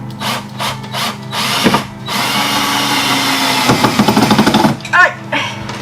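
Power drill driving screws into overhead ceiling panels, OSB and PVC cladding in a utility room, whirring in short bursts and then a longer sustained run, loud and close, with brief talk between the bursts.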